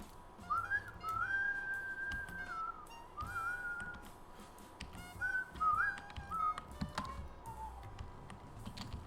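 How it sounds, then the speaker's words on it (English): Someone whistles a melody in short phrases with pauses between them, fairly close, over a faint background of taps and clicks. "I'm bad at whistling, but I love this song."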